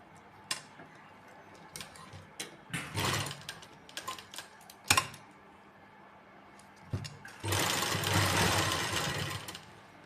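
A domestic sewing machine stitching lace along the edge of a dupatta, heard in short uneven bursts of rapid clatter, with a longer steady run near the end, close and fairly loud with no talk.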